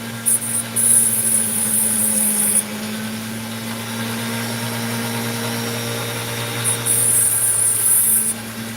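An Ozito rotary tool grinds into opal with a steady close motor hum and whine, holding constant throughout with a high-pitched cutting squeal that rises at the start and again near the end.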